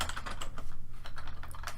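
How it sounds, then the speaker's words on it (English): Rapid clattering keystrokes on a computer keyboard while filling in a yearly timesheet spreadsheet, a steady close run of light taps with no voices. "as I type on this side"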